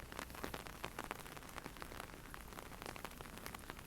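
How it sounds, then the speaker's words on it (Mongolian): Heavy rain falling outdoors, a dense steady patter of drops striking surfaces, faint and continuous with no voices. "Гадаа айгүй бороотой байна."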